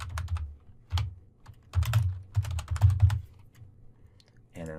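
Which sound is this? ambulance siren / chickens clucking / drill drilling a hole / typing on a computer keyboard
typing on a computer keyboard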